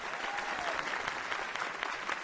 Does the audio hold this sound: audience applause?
yes